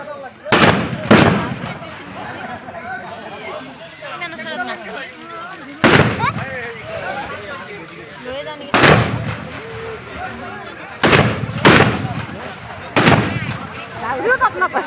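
Bamboo-mounted bomb firecrackers burst at a crowded Magh Purnima gathering: about seven sharp, loud bangs, some in quick pairs, cut through steady crowd chatter and voices.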